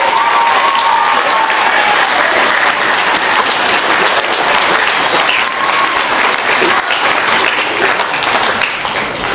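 Students at a middle school ceremony applaud and clap for staff members, a loud, sustained wash of many hands clapping that fills the room without pause.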